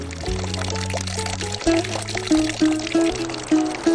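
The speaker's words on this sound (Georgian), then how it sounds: "გოგონა წყალს ჭაუხების ფონზე ავსებს." A girl fills a vessel with water in a Khevsureti mountain village. Water pours and splashes in uneven bursts beneath steady, droning musical tones.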